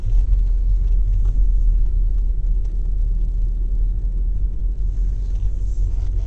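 A car engine rumbles low and steady throughout a driving lesson in Maynooth, a loud, constant in-cabin drone with no clear gear shift standing out.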